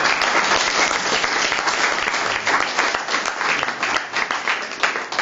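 An audience claps for a man named Jorgen at an open day, a dense, steady wash of many hands applauding together, loud and sustained with slight swells, no voices over it.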